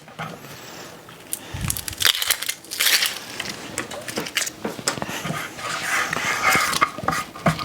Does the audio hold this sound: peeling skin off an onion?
yes